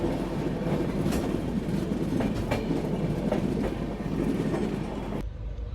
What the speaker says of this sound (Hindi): फिर से 130 की रफ्तार को छूने के लिए एक बार फिर से बेकरार होती है हमारी पुरुषोत्तम एक्सप्रेस।